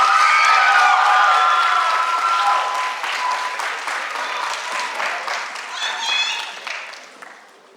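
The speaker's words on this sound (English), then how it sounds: "Please give them another round of applause." A graduation audience applauds students at an 8th grade ceremony of the Denzel Washington School of the Arts, a loud burst of clapping with a few cheers and whistles that gradually thins out.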